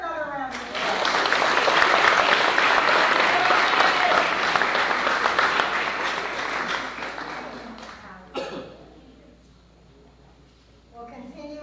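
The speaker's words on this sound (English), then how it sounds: "Let's give her another round of applause." A large room at a school board meeting fills with sustained applause for about eight seconds. The clapping is dense and steady, then fades, and quieter voices and room sounds follow.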